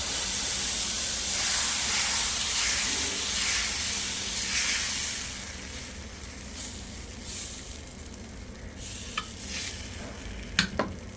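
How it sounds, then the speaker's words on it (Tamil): Millet and black urad dal dosa batter on a hot griddle, a steady close hiss and sizzle that eases off, then a few light scrapes and taps toward the end. "இப்போ வந்து மாவு ஊற்றி காமிக்கிறேன் உங்களுக்கு."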